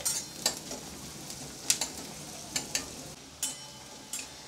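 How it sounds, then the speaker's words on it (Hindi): Onions fry gently in a pan with a steady hiss of sizzle, punctuated by sharp clinks and scrapes of a utensil stirring, no voices. "प्याज को हम हल्का सा सुनहरी होने तक फ्राई करेंगे"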